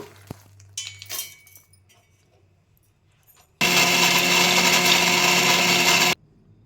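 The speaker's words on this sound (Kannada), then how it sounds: "ನಾನು ಇದನ್ನೆಲ್ಲ ಮಿಕ್ಸಿಗೆ ಹಾಕ್ಕೊತಾ ಇದ್ದೀನಿ" A few light clinks and clatters, then a mixer grinder roars loudly and steadily for a couple of seconds, grinding ingredients into a homemade protein powder, before cutting off abruptly.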